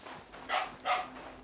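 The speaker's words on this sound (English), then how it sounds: "If you heard the dog barking." A dog barks twice in the background behind gameplay of Black Myth: Wukong, two short, fairly distinct woofs set apart by a brief pause.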